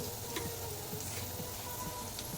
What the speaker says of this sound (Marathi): खडे मसाले घालू. जिरे, मोठी वेलची, काळी मिरी, धने, तीळ, दालचिनी